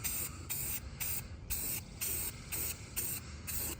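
Aerosol spray paint hissing onto a wooden soccer logo in steady bursts about half a second long, close and loud, repeating with short gaps and no voices.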